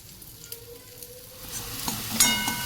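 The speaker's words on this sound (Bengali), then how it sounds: "পেঁয়াজ আদা রসুন কষিয়ে, যেমন নর্মাল মশলা পড়ে সেরকম দিয়ে কষিয়ে" Onion, ginger and garlic fry in a pan for a green banana kofta gravy, a steady close sizzle that grows louder and crackles more toward the end, with occasional stirring clinks and no talk.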